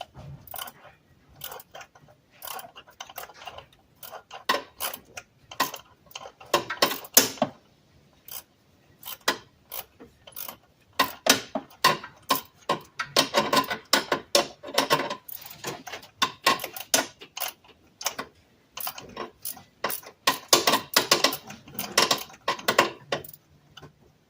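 A ratchet wrench clicks in irregular bursts while intake bolts are loosened on a 2008 Dodge Charger, the sharp metallic ticks coming close and quick, separated by short quiet pauses.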